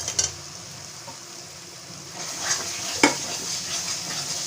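Mushrooms for a masala mushroom dish hiss and sizzle in a hot pan as a spatula scrapes and turns them, with a few metallic knocks and a brief clatter, close and unaccompanied by talk.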